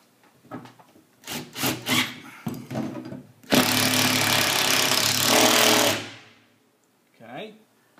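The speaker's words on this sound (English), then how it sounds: "So I'm going to get my impact driver" An impact driver drives a lag screw into wood while mounting a Hydroclaw, giving a loud, continuous rattling burst of about two and a half seconds. Quieter shuffling and handling noises come before it.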